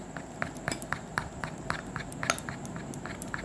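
A spoon stirs a batter of flour, rice flour, gram flour and water in a bowl, giving faint, quick, rhythmic clinks and taps against the bowl with no talk.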